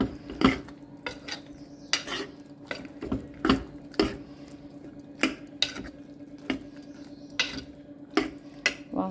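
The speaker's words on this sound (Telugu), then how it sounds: "మనం కూడా ఇంట్లో కూడా మరి కర్రీ వేస్తున్నా, వంకాయ టమాటా వేస్తున్నా." A pot of brinjal and tomato curry cooking in a home kitchen gives off a steady run of sharp metallic clinks and scrapes as a spoon stirs and taps the pot, close by with brief gaps between strikes.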